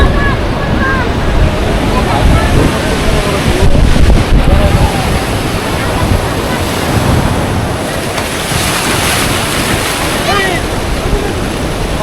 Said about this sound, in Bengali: এই কারণে সমুদ্র মনে হচ্ছে আরও বেশি উত্তাল